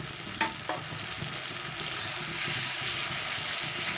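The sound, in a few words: tomato frying with fried onions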